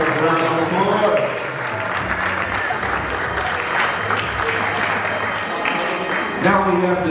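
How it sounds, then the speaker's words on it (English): An audience at a Black History Month celebration applauds, with sustained clapping and some crowd noise lasting several seconds before a voice returns at the end. "Give that a round of applause."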